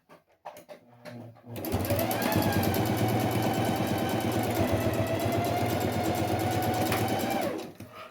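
A sewing machine stitches a small fabric box in one sustained run of about six seconds, a close, steady motor hum with rapid needle chatter, preceded by a few light clicks.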